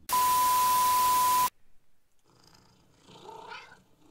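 A loud steady beep tone cuts off abruptly, then a cat in the horror game Demonologist lets out a faint, drawn-out meow with a low purring rumble beneath it.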